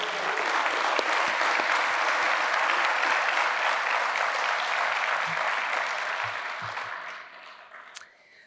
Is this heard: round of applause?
yes